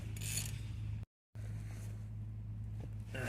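Bolts are tightened on a Vauxhall/Opel Astra during a front brake pad and disc swap, a faint mechanical ratcheting with a brief dropout partway through and no talking.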